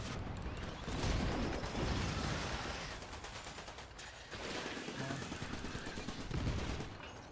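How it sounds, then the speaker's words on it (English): Machine gun and shotgun fire in the video game Iron Brigade, with continuous rapid shots forming a steady dense rattle in two long bursts, fairly loud against a noisy mechanical background. "if my machine gun runs out of ammo quickly, I can still fire the shotgun"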